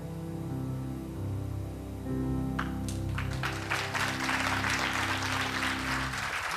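Applause from a conference audience breaks out partway through a talk and builds into sustained clapping over a low musical drone.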